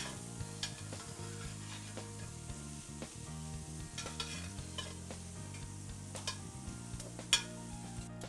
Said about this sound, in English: I want to cook this pancetta nice and slow for about 3 to 4 minutes